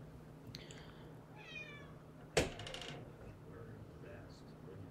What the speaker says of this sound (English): Did you hear the meow?